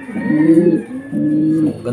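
A racing pigeon coos close by, two soft rolling low calls separated by a short pause.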